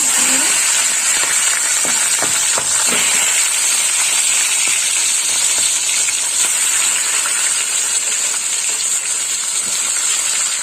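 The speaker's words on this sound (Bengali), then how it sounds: "মাছের মুড়োগুলো এইভাবে লবণ আর হলুদ মাখিয়ে নিয়েছি এবার আমি ভেজে নেব দিয়ে দিলাম" Fish heads coated in salt and turmeric fry in hot oil, giving a steady, loud sizzling hiss with a few faint crackles early on and no voices.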